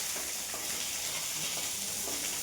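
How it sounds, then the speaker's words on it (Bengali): Parshe fish frying in oil in a pan, giving a steady, close sizzle with soft crackles throughout and no talking. "মাছটা এখন ভাজছি"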